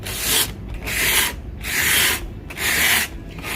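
Sandpaper worked by hand along the edges of a wooden box from a recycled baroque altarpiece, four long loud rasping strokes with short pauses between, close and steady.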